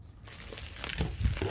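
Crinkly rustling of the heavy wrapping on a mailed package of homemade goodies, a steady papery crackle that builds toward a few louder crunches near the end.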